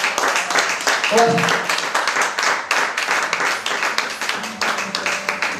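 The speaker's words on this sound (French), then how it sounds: "on va l'applaudir." A studio audience applauds a dresser invited to stand at a French stage show, dense clapping spread across the whole stretch with a voice talking over it.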